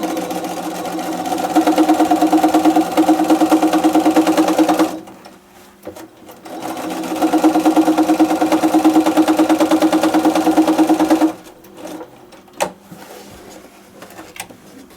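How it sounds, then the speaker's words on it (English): Electric sewing machine running steadily while stitching fabric strips onto a foundation-pieced log cabin quilt block, two long fast humming bursts separated by a brief pause with light handling noises after. "Open it up and start stitching."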